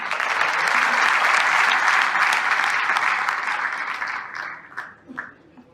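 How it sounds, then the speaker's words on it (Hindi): An audience at an achievement ceremony gives loud, sustained applause that holds steady, then thins out and fades over the last second or two. "और सभी गुरुओं के लिए भी एक बार तालियां।"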